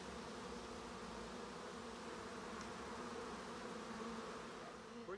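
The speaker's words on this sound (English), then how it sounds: "Few bees on you. There you go. Covered in bees." Honey bees swarm around an open hive at close range, a steady, unbroken buzzing drone that holds at even loudness throughout.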